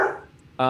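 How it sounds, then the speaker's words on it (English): A pet dog barks in a home during a casual talk-show call, a single close, loud bark bursting in at the end after quieter voices fade. "Sorry, that's my dog."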